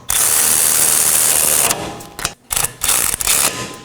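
Power tool running down two 18mm caliper bracket bolts on the rear knuckle of a 2018-2024 Chevrolet Equinox, one long loud whirring burst followed by several shorter choppy bursts close by.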